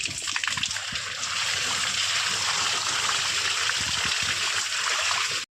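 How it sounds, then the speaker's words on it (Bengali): Native guavas are washed in water, with a continuous close splashing and trickling rush that runs steadily for several seconds before stopping abruptly. "দেশি পেয়ারা একদম খাঁটি পেয়ে নিচ্ছি, সব ধুয়ে নিচ্ছি"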